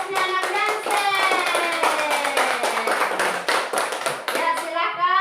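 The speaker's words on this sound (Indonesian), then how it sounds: "Tepuk tangan dulu untuk kelompoknya anak Dansen." A class of students claps for a student group about to present in a religious-studies lesson, crisp repeated hand claps in a brisk rhythm with children's voices chanting along over them.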